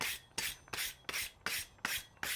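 A brush scrubs a freshly forged metal piece in a smithy. Seven or so evenly spaced, harsh rasping strokes repeat in a steady back-and-forth rhythm, close and clear, with no voices.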